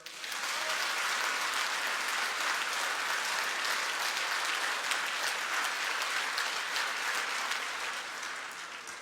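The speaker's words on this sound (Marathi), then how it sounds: "जोरदार टाळे वाजवा." A crowd at a political gathering in Barshi, Maharashtra, breaks into loud, sustained clapping with hands raised, a thick, unbroken roar of applause lasting about nine seconds before easing slightly at the end.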